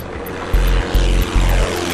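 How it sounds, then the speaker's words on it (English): Propeller airplane taking off, a loud close engine throb with pulsing low beats that swell in three regular bursts over a couple of seconds. "Finally, the plane took off."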